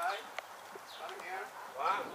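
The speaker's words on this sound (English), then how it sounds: "getting on his horse" Horse hooves clip-clop in a few light, uneven knocks as a horse is mounted and walked during a holiday in Spain, partly under people talking nearby.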